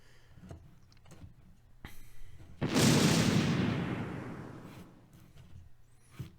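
Tank guns fire during an SS Panzer division ambush in the Close Combat: Panthers in the Fog war game: a few faint distant thumps, then one loud, close blast that rumbles and fades over about two seconds.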